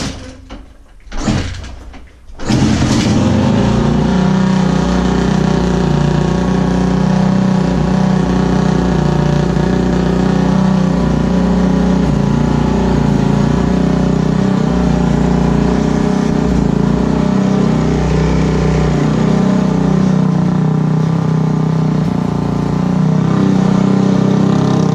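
A Honda CRF 450 dirt bike, with clutch plates and springs just replaced, is kicked over with a few short bursts and then fires up, settling into a loud, steady idle that runs on continuously up close.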